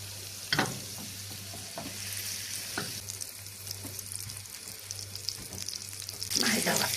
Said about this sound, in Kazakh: Сковородкаға сармайды салып